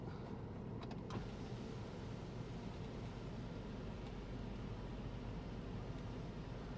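A sunroof on a single-owner 2018 BMW X1 sDrive20d retracts with a steady electric motor whir inside the cabin, lasting several seconds over a constant low interior hum, with a faint click near the start.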